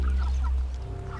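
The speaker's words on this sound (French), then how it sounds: "Je vais vous montrer mes petits poulets." Chickens on a French livestock farm cluck in a brief burst of soft, nearby calls over a low background hum.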